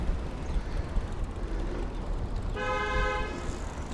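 A car horn honks on a Minneapolis street, a steady sustained toot starting partway through and lasting over a second, loud and close above constant traffic rumble.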